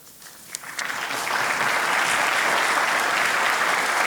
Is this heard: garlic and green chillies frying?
no